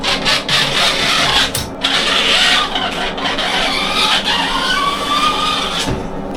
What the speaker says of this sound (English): I need to squeegee it.